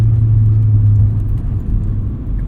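A 1990 Mazda RX-7 FC with a rotary engine is driven on the road, giving a smooth, steady low hum and road rumble that dips slightly partway through. The engine sound is close and continuous, with no voices.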